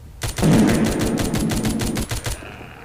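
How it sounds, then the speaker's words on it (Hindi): Rapid automatic gunfire from a new gun in the Walking Zombie 2 video game, a loud burst of about a dozen evenly spaced shots lasting roughly two seconds. "अपने पास न्यू गन भी था, उसको चेकआउट करते हैं"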